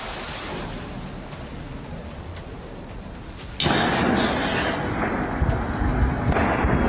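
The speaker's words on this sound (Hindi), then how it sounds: "तेहरान में पूरी रात धमाके सुने जा रहे हैं।" Distant explosions from an IRGC live-fire drill in Tehran at night: broadband rumbling booms roll in, with a sudden louder, denser burst of noise partway through that continues steadily to the end.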